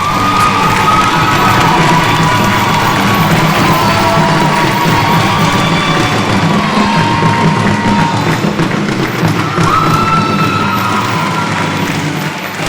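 After a school stage production, a large audience cheers, whoops and applauds, with children shouting, in a loud, continuous roar that holds steady throughout.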